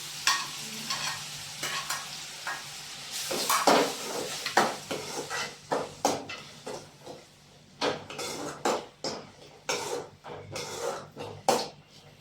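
Onion and tomato sizzle in a pan while a utensil scrapes and stirs through them, with repeated rhythmic stirring strokes over a low, steady frying hiss.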